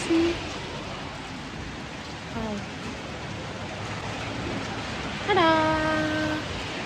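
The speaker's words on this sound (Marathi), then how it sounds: "थोडा बारीक पाऊस चालू आहे" Steady soft hiss of light rain in Italy continues throughout, with a brief animal-like cry near the start and a high, wavering call later.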